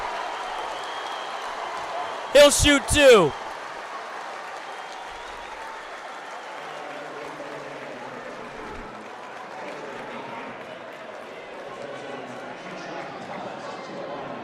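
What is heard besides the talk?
crowd cheering at high school basketball game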